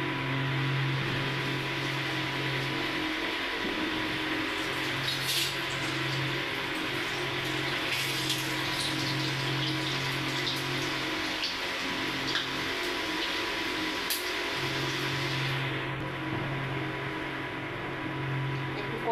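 Vegetable-stuffed luchi frying crisp in hot oil, a steady dense sizzle and crackle filling the whole stretch at close range, with a low hum underneath and brief louder spits.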